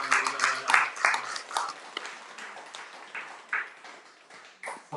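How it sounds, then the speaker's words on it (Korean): A church congregation applauds during a Sunday worship service, a steady patter of many hands clapping with uneven accents, with voices mixed in underneath. "우리 하나님께 영광의 박수"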